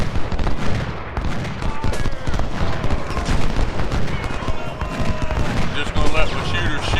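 Musket volleys crackle and rattle continuously in Ultimate General: Civil War, dense overlapping gunfire of a surrounded Civil War battle at Cedar Mountain, loud and unbroken with a voice speaking over part of it.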